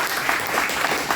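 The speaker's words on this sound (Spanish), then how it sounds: "Den un fuerte aplauso al Señor" A church congregation bursts into loud, dense applause during a Spanish-language service, a brief continuous wash of clapping filling the room with no voices on top.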